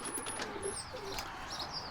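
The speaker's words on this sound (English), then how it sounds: "we have our pigeons hanging out in here" Pigeons inside a farm shed give soft, low coos and brief wing flutters amid a constant, fairly quiet hiss of background noise, with no talk.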